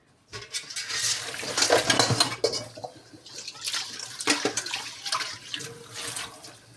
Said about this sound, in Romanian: Acum pun apă.